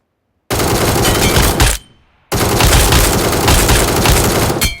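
Sustained loud automatic fire from an ACE32 assault rifle in the mobile battle royale game PUBG Mobile, two long continuous bursts separated by a short pause, close and alone with no talk.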